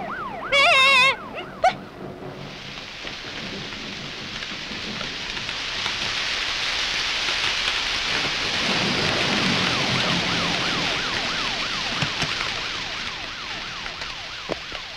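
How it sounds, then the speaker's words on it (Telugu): Steady rain pours down with a broad continuous hiss, a brief electronic tone at the start and a distant wailing siren weaving through. "చినుకులు కూడా పడుతున్నాయి"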